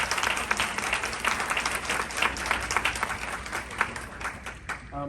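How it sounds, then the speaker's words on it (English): An audience applauds panelists at a community leadership event on bridging communities, steady clapping filling the room for about five seconds before tapering off at the end. "join me in giving our wonderful panelists a wonderful round of applause"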